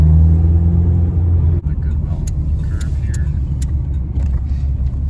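Car pulling away from a green light in second gear, a loud steady engine rumble up close that shifts tone partway through and continues with road noise, while a person talks over it.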